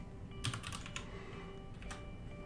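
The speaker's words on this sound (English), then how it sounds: "if I start typing that, you can see PowerApps prompts us" Rapid typing on a computer keyboard, close and fairly quiet, with irregular bursts of clicking key strokes over a steady low background hum.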